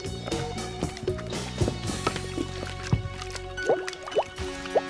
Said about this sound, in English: If it's not thick enough, add a little more cornstarch. If it's too thick, add a little more water.